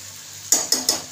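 Cluster beans (gavar) sautéing in oil in a pan, with three sharp stirring scrapes and light sizzle, close and fairly quiet with no talk.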